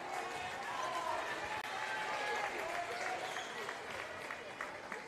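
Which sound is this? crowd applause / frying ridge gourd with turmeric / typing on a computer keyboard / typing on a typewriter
crowd applause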